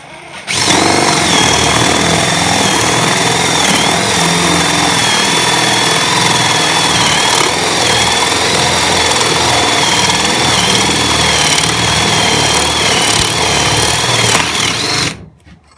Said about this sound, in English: we are going to be seeing which one of these two drills can drill a 1-inch hole in this piece of 2x4 the quickest